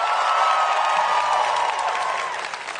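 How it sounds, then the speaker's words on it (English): A large live audience at a Minecraft Live preshow applauds loudly and steadily for performers on stage, a dense wash of clapping that fades slightly toward the end. "can I get one final round of applause for everyone on the stage right now?"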